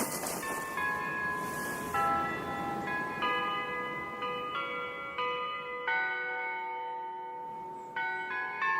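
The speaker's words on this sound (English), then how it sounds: "that there bell's been ringing these 10 minutes" Village church bell ringing in a rural setting, a steady sequence of clear, resonant strikes whose tones overlap and ring on, loud and alone with no talking.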